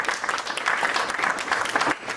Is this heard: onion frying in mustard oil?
no